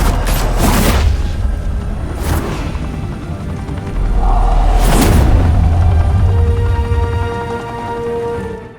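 Gunfire in a Batman game set in Gotham, heavy booming shots and sustained rattling bursts over a loud, continuous roar of noise.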